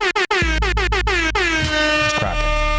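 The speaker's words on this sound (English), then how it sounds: "Air horn ready." An air horn sound effect fires three quick short blasts, then one long sustained loud blast that wavers slightly in pitch, close and alone.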